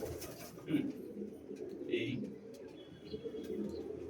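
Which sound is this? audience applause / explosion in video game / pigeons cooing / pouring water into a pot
pigeons cooing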